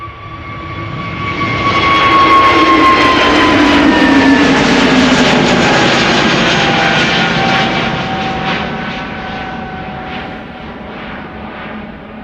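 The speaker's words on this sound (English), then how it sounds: "A320neo going to Reykjavik, flight 461." An Airbus A320neo jet departs Amsterdam Schiphol for Reykjavik. Its engines rise into a loud, whining roar with clear tonal hums, peak near the start, and then gradually fade as the aircraft pulls away, with no voices.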